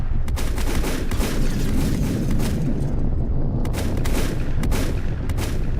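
Dense, continuous gunfire and explosive booms roar through a busy firefight in the Volcanoids survival shooter game, loud and unbroken, with sharp bursts layered over a heavy rumbling bed and no talking.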